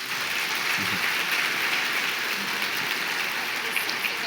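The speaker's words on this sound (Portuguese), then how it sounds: "podemos aplaudir Jesus" Audience at a church conference applauding, a dense, steady wash of clapping throughout with no pauses.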